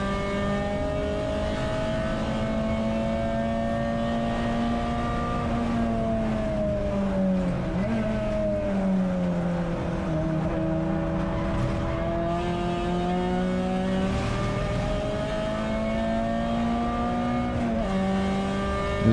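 Onboard a Peugeot 206 GTi 180 racing in a CSCC Tin Tops round at Donington Park, the engine drones loud and steady, rising and dipping in pitch through gear changes and corners, with no talk.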